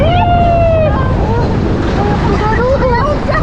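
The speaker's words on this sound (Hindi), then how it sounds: "अभी एक और है तेज लहर।" River rapids during rafting near Manali, roaring whitewater and wind buffeting the microphone, with excited voices shouting over the rushing water.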